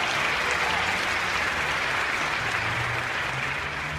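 Church congregation applauding during a sermon, thick sustained clapping from many hands filling the room evenly, steady and moderately loud with a faint low murmur beneath.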